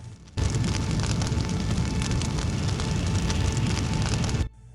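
A video game explosion in Full Throttle Remastered, as a plane blows up. It is a loud, dense roaring blast that holds steady for about four seconds and then cuts off sharply, with no voices.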